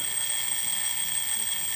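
An alarm clock rings in a steady, continuous electronic trill, bright and unbroken for a couple of seconds, sounding alone without voices or other noise.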